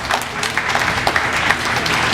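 An audience at a county FFA livestock show claps in a brief, steady round of applause, with the individual hand claps fairly close and distinct.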